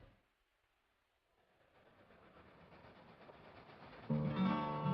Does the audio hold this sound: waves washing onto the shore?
no